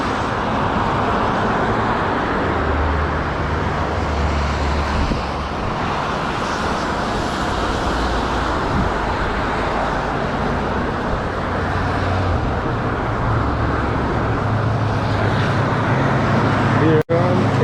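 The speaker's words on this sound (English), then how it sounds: "Going over the Interstate 5, the main freeway traveling up and down the west coast from Canada all the way down to California" Heavy freeway traffic on Interstate 5 roars steadily beneath a bike trail bridge in the Pacific Northwest, a loud, continuous wash of passing cars and trucks at 60 to 70 mph with no voices.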